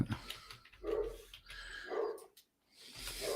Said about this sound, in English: Is that your dog barking, Alex?